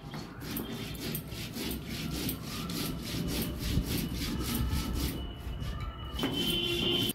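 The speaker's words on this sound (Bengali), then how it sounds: "এরপর আমি জিরাগুলো বেটে নিচ্ছি" Cumin seeds are crushed on a flat grinding stone in a village kitchen, the stone rasping back and forth in steady rhythmic scrapes, close and continuous with no talking.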